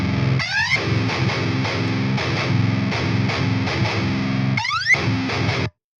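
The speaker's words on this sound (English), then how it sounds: "you'll notice when I do these like high screechy bits, just watch Hypertune here" A heavily distorted electric guitar in C standard tuning, run through Hypertune pitch effects, chugs rhythmically with two high screechy swooping bits, then cuts off abruptly near the end, with no talking.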